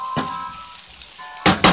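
Garlic and onions sauté in a pan with a soft, even sizzle, then two loud bursts of spattering crackle near the end as the food is stirred.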